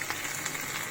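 Hot tadka, golden fried seasoning, poured into peanut chutney for idli and dosa, making a steady dense sizzle that fills the whole moment, close and even, with no talk.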